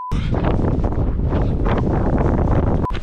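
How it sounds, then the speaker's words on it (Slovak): Strong wind buffets the microphone outdoors on a hilly ultra trail run in the Karst region, a loud, steady roar with gusty swells lasting the whole stretch. "stále fúka ten vietor"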